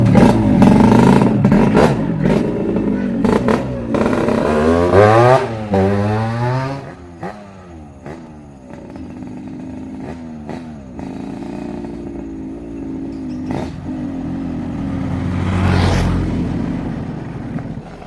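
A motorcycle engine revving repeatedly in a domestic setting, loud rising and falling throttle blips with sweeping pitch, close by and heard alone without talk.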